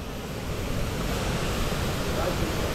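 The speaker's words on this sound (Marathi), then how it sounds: "काय नाही फक्त पाणी पडते." Water pours down a waterfall near Wai, a steady, even roar of rushing water heard from a short distance with no breaks.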